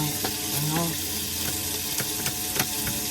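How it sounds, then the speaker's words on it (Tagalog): Pieces of food sizzle steadily over heat, with occasional sharp clicks and taps of a utensil against the cookware, and a voice speaks faintly now and then. "Saka ihawin."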